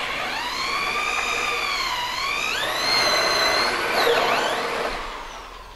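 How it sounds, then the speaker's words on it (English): A loud, whining power drill with a 3-inch hole saw spins up and changes pitch as it bites and grinds through a Polaris RZR panel, continuous and close. "cut a large hole in the panel using a drill with a 3-inch hole saw"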